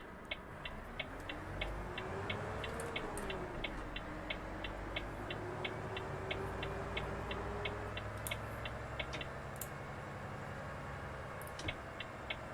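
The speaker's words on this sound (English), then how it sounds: "it has an engine fan sound to it too" A steady, droning Volvo truck engine in Euro Truck Simulator 2 with a whirring fan hum runs throughout, overlaid by a regular high ticking like an indicator clicking.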